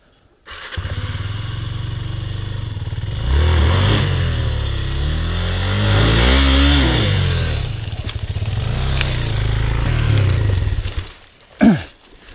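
A motorcycle engine starts, then revs up and down as the clutch is released and the bike pulls away, loud and near, ending with a brief sharp scrape or clatter.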